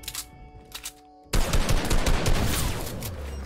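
Video game gunfire erupts suddenly after a brief quiet stretch, with sharp shots and a loud sniper crack giving way to a dense, sustained burst of close, heavy firing that continues to the end.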